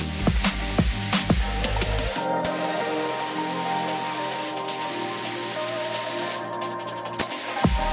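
Continuous hissing spray gun coats black body panels for a Lexus IS300, a steady close airy spray with brief pauses between passes and no voices.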